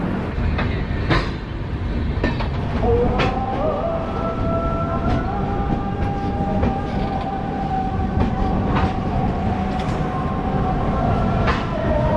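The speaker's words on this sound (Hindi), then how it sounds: "अपनी ट्रेन बिल्कुल टाइम से 5:45 में राजेंद्र नगर टर्मिनल से निकल चुकी है" The Sampoorna Kranti Express pulls out of Rajendra Nagar Terminal, a loud continuous rumble of rolling wagons with regular clacks over rail joints and long squealing wheel tones running through.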